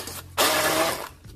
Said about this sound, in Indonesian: Oke, kita blender. Saya blender ya